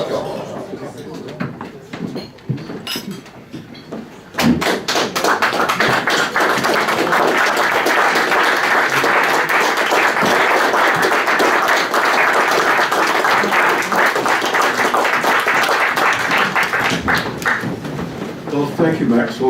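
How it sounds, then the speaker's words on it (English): A dinner audience breaks into loud, sustained applause after a toast to the memory of Sir Walter Scott at a club's annual dinner, following a quieter stretch with talk, and the clapping fills most of the clip. "As the applause demonstrates, that was quite sensational."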